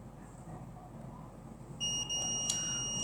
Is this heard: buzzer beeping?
yes